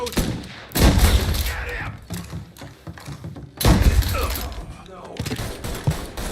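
Gunfire in the Mafia Definitive Edition video game, with heavy bursts of shots and thuds coming in two loud waves amid shouting voices.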